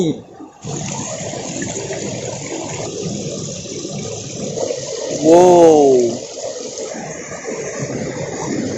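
A waterfall in Nagaon district, Assam, sends out a steady, broad rushing roar that fills the whole scene, with a voice speaking briefly partway through.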